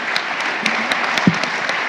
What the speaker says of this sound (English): give a big applause to each one of the panelists